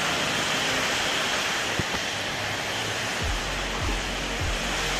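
Heavy rain pours steadily in Chitwan, Nepal, a dense, loud, continuous hiss that fills the whole span with no pauses and no voices.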